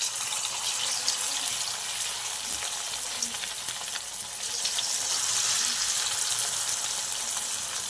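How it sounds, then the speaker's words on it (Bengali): Food fries in a kadai with a steady, close crackling sizzle that swells slightly midway, no voices over it. "এখানে কড়াটা বসিয়েছি, এক এক করে ভেজে নিই।"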